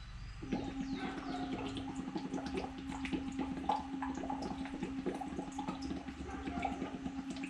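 Bubbles are blown through a tube into water during a Lax Vox voice exercise, a continuous close bubbling and gurgling with a steady hummed tone underneath, no talk.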